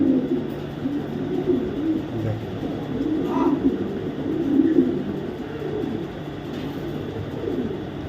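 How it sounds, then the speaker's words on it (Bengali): Low, soft cooing of pigeons repeats over a steady background hum, with a faint higher chirp now and then. "এত বড় সাইজের কবুতর হয়"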